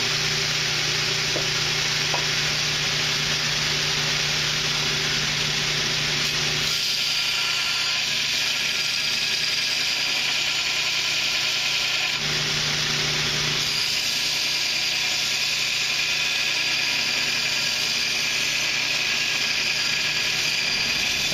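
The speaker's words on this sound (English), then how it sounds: "I'm going to do it on the same grinder that I did" A bench grinder rounds one side of a handle on a last-ditch knife, giving a steady, loud motor whine and grinding roar that runs continuously, shifting in tone as pressure on the workpiece changes, with no talking.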